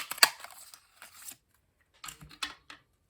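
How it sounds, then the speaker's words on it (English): Scissors cutting a piece of metallic card for a handmade card, two short bursts of close, crisp snipping separated by a brief pause, with no talking. "I'm just going to cut out a piece."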